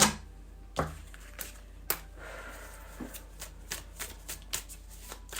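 Tarot cards shuffled close up, starting with a few sharp taps and slaps and then settling into a steady series of soft riffling flicks, quiet and free of speech.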